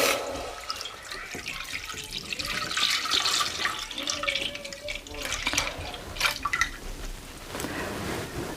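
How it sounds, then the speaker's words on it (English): Milk pours steadily into a clean pot for an Eid sheer khurma dessert, a continuous liquid splashing and trickling close by, with faint talk in the background. "into that I'm going to very carefully just transfer all of that milk"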